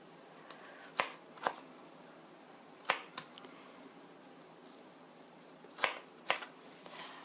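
A sharp knife chops through long ingredients on a board at a camping kitchen, giving crisp, isolated cutting clicks in small clusters over quiet outdoor background.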